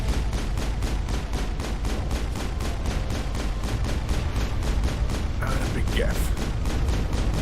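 Rapid, evenly spaced pistol shots crack out in a steady stream during a firefight in the Mass Effect video game, dense and continuous with brief voice fragments mixed in.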